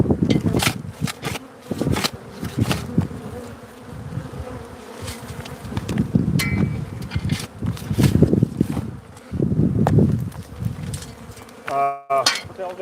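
Bees buzz around a hive in a steady, droning swarm, swelling and fading as individuals fly close past, with a few brief knocks and handling noises.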